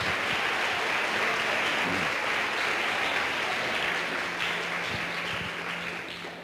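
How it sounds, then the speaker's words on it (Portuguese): Sustained applause from a large church congregation at a worship service, a dense even wash of clapping that fades slightly toward the end. "Vamos dar um aplauso ao nome do Senhor"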